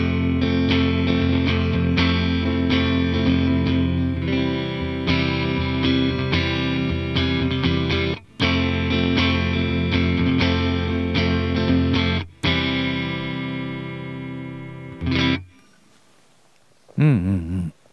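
Electric guitar played through a Zoom G2Four multi-effects pedal on its Fender Twin Reverb amp simulation, loud sustained chords and riffs with brief breaks, ending in a few short wobbling notes.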